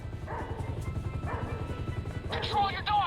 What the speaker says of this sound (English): Control your dog, asshole!